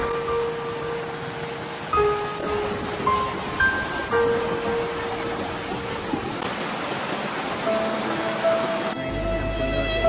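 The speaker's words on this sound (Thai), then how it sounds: "สิ่งที่ไม่คาดคิดก็เกิดขึ้นค่ะทุกคนฝนโต" Heavy rain falling at Wang Duean Ha waterfall beside a stream, a steady broad hiss of downpour throughout, with scattered thin tones and shifts in level over it.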